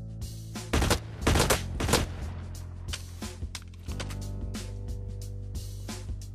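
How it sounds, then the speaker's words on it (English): An assault rifle tap-fires in the first-person shooter Blacklight Retribution, a handful of punchy shots in short bursts over a steady low game hum, followed by softer scattered clicks and impacts. "this is what happens when you tap fire"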